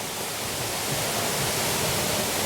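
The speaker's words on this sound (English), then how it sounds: "nice waterfall" Waterfall at a mini golf course, a steady close-up roar of falling water that fills the whole stretch as even broadband rushing noise, with no voices over it.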